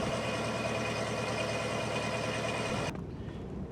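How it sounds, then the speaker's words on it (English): A Ford 302 V8 idles steadily in a custom car built on an extended 1985 Mercury Cougar chassis, a continuous low rumble heard up close that drops off sharply near the end. "The engine is a Ford 302 V8"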